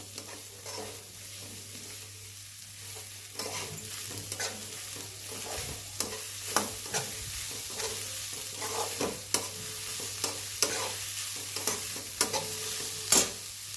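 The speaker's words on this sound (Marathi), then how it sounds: "आता कांदा आहे ना मऊसूत होईपर्यंत परतून घेऊ आपण" Chopped onion sautéing in a pan for bhakri bhuga gives a soft continuous sizzle, broken by frequent clicks and scrapes of a spatula stirring it, close and fairly quiet.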